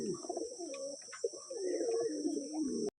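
Pigeons coo softly in a loft that houses ailing birds, a continuous layered burble of close, low coos with a few faint chirps, no talking, until the sound cuts off abruptly near the end.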